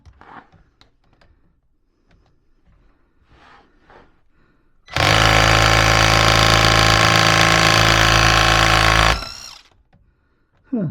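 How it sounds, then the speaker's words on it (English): Impact wrench with two torque settings (about 70 Nm maximum) hammering on a gearbox mount bolt of a 1989 Austin Mini: a loud, continuous rattling burst of about four seconds after quiet workshop handling noises, then a brief final rattle. "So it does impact like that and has two torque settings."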